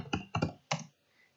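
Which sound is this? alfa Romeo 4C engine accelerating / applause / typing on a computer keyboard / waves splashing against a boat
typing on a computer keyboard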